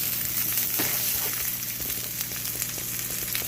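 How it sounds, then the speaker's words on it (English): Onions sizzling steadily in a pan as part of a pork chop dinner, with a continuous close crackling hiss and faint pops and no talking. "I love when onions cook"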